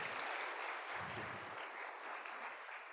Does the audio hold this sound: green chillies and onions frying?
no